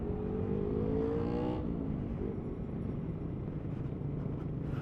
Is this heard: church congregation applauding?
no